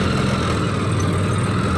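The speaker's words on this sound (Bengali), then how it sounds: "সিএনজির অনেক শব্দ" A CNG auto-rickshaw engine runs loud and steady from up close, a constant rumbling drone with no breaks.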